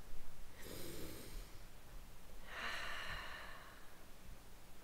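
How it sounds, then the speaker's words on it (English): Slow, deep belly breaths, two long audible inhales or exhales spaced a couple of seconds apart, close and quiet with no talking. "Let's practice belly breathing."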